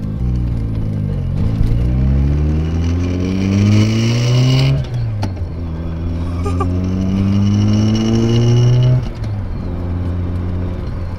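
A barn-find Mazda RX-7 FC rotary driving off from inside the car, loud engine rising through gears in smooth pulls with brief drops at each shift, steady and close, no talking.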